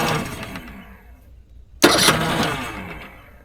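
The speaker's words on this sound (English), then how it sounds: "Sometimes after a heavy rain, the motor doesn't start well." A boat's outboard motor, reluctant after heavy rain and run on choke, cranks briefly, falls silent, then suddenly catches and roars loudly before settling into a steady, slowly fading run.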